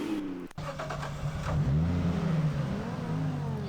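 Car engine in the mobile racing game Torque Drift revving up after a brief click, rising and sustained engine roar up front with no talk.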